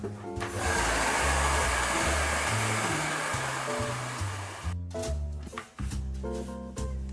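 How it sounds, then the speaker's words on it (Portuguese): A hair dryer drying a painted garden craft sign blows loudly and steadily, a broadband whoosh with a brief dip near the end, while background music plays underneath. "Agora eu vou acelerar a secagem no secador"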